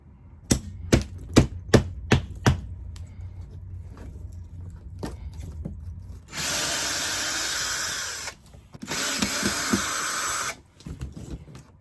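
Several sharp knocks, then a power drill whirs loudly in two sustained bursts of a couple of seconds each, close by, with brief pauses between, as it removes screws from a broken chair leg.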